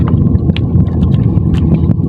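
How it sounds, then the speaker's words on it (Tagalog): Fishing boat engine running out at sea at night while shrimping, a steady low droning rumble heard up close with wind buffeting the microphone and occasional knocks. "Rinig yung makina nila,"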